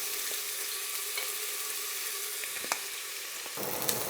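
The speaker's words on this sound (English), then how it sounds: "You can't put all the carrots because then it will boil instead of frying." Onions and carrots fry in oil for a creamy vegetable soup, giving a steady, close crackling sizzle with a few small clicks and a brief stir near the end.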